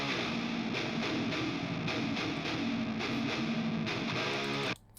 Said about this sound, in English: those guitars on their own sound like this